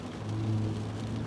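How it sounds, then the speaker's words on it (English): Steady rain falls on a gloomy, humid day as a dense, even hiss, with a low, constant hum running underneath throughout. "Gloomy, raining, and humid"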